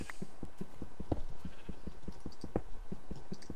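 Sheep bleating in a video game, with short, repeated calls rising over a steady run of clopping, hoof-like steps, fairly close and moderately loud.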